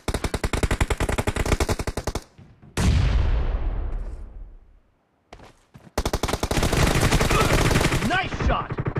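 Automatic weapons rattle in PUBG Mobile: loud, rapid bursts of gunfire, then a heavy blast that rings out and fades to silence before another long burst erupts.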